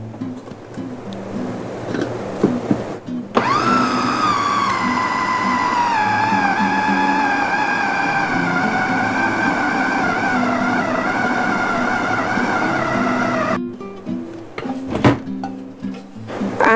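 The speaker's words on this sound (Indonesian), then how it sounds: "langsung saya akan tutup dan di blender lagi" A kitchen blender whirs loudly and steadily for about ten seconds, its motor pitch slowly dropping as it works thick chicken sempol dough, with brief clatter before and after.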